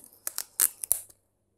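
Adhesive tape is pulled off a roll in a few quick, crackly rips, close and brief, then silence, while repairing a broken aquarium.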